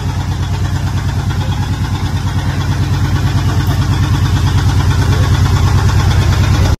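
A vehicle engine runs steadily and loudly at close range for several seconds while the vehicle is being parked, with a rhythmic idle pulse throughout before cutting off abruptly at the end.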